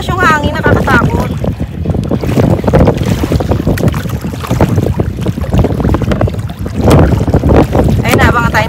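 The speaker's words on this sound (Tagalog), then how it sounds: "Lumalakas yung hangin." Strong, rising wind roars and buffets the microphone continuously, with water and boat noise underneath and faint voices breaking through now and then.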